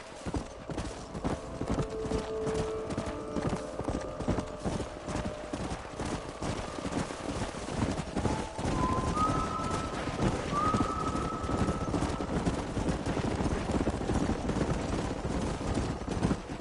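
Horse hooves clip-clop steadily through a Red Dead Redemption scene on PS5, with occasional whinnies and a rising whistle-like tone over constant gameplay ambience.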